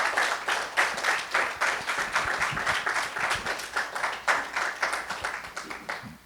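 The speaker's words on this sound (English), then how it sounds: "Let's give them a round of applause" Steady round of applause from a seated audience at an author talk, dense clapping carrying evenly from start to finish with no voices over it.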